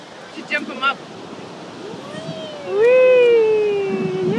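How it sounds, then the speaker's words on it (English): Steady wind gusts buffet the microphone on a beach near the surf, with a person's gliding, sing-song voice rising over it. "So windy."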